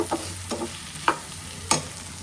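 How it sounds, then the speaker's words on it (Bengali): Vegetable bhaji frying in a pan, with a soft low sizzle beneath a few separate scraping stirs of a spatula, fairly quiet and close, no voices. "আর এদিকে ভাজিটাও করে নিচ্ছি"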